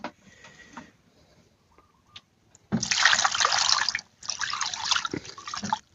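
Water poured into a cooking pot, heard as a steady close splashing stream in two pours after a quiet start with a few small clinks.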